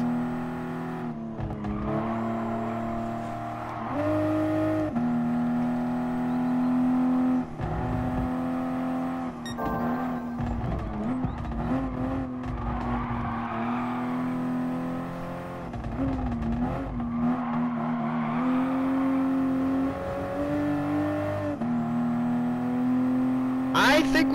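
A Toyota Supra race car in Gran Turismo Sport drones steadily under load, its engine note rising and falling with gear changes and throttle lifts, loud and continuous throughout, with a voice talking over it at times.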